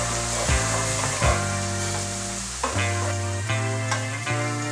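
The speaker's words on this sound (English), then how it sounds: "Stir again and set aside" Mushrooms frying in oil are stirred in a pan, giving a steady close sizzle broken by a few sharp scraping and clinking strokes from the utensil, with no voices.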